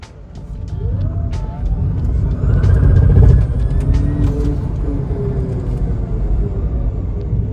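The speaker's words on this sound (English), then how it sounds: "But this is a short pull of the Polo." An electric Volkswagen Polo pulls away in first gear, a steady low road rumble with a faint rising whine that climbs then levels off, close and fairly loud throughout.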